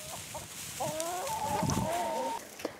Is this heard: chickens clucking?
yes